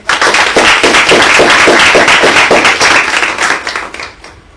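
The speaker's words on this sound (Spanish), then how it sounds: "Bienvenido, un aplauso." A small audience at a talk on Venezuela welcomes a speaker with close, loud clapping, individual claps distinct in a quick uneven rhythm, building briefly then tapering off.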